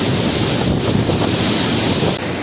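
Steady rain and gusting wind roar continuously at Manche waterfall in Devgad, Sindhudurg, a dense close wash of noise with the wind buffeting the microphone throughout.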